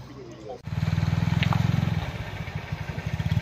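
A motorcycle starting off on a ride through hills, its engine throbbing loud and close in a steady pulsing rumble that begins abruptly after a brief moment of quieter sound.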